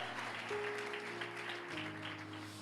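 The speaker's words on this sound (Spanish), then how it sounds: "de un aplauso" Applause from a church congregation during a worship service, steady and sustained, with a held organ or keyboard tone sounding underneath throughout.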